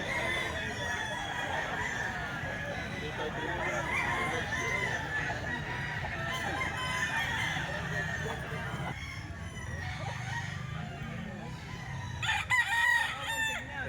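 A bull stag gamecock, an SBR young rooster, crowing with clucking around it in a busy outdoor market setting, mid-distance, with faint chatter and steady background noise throughout.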